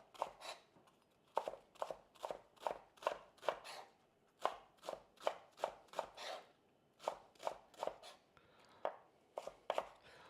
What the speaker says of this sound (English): I'm just basically going to shred this.